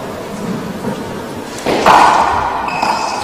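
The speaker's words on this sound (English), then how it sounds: "Another great serve by Owen." A GAA handball serve struck hard against the front wall in an All Ireland match, one sudden thud followed by a ringing echo in the enclosed court.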